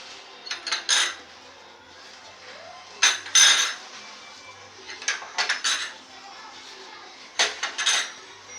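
Metal idli plates being greased with oil and stacked, a series of bright clinks and clatters in several short bursts with quiet gaps between, close by and alone.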